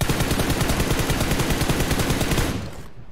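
Rapid automatic gunfire in PUBG Mobile bursts continuously at close range, then cuts off near the end.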